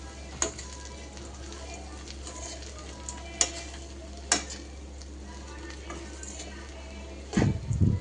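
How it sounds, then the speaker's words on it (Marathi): Poha being gently mixed in a pan, with a steady soft sizzle and scraping throughout, a few sharp spoon taps against the pan, and a louder clatter near the end. "तर आता इथे आपण अगदी हलक्या हाताने याला व्यवस्थित मिक्स करून घेतोय."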